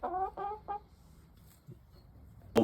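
Hens clucking nearby in a backyard chook house, a few quick rhythmic clucks at the start, then quiet scratching sounds and a final louder squawk.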